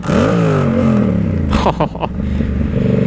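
A Yamaha R7 sport motorcycle, 60th anniversary edition, with an aftermarket exhaust line revs hard close up, the engine note climbing and falling in sharp blips with loud crackling pops.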